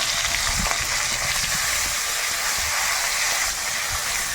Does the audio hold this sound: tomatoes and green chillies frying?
yes